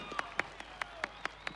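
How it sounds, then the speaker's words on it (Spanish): Audience applause at a show during FEIPOBOL 2022: about seven sharp, evenly spaced claps at a steady rhythm, fairly faint and sparse rather than a full roar. "Quiero pedir un fuertísimo aplauso porque este show continúa."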